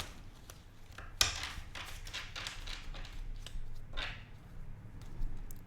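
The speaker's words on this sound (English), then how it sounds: "couple more shuffles here. One more shuffle." Tarot cards being shuffled by hand, soft riffling bursts and quick papery slaps spaced across a quiet room, fairly close but low in level.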